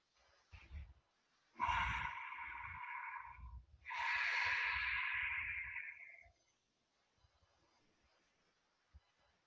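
Two long, slow breaths drawn in and pushed out during a calm yoga practice, each a breathy hiss lasting a couple of seconds, close and quiet, with soft rustles and near silence between them.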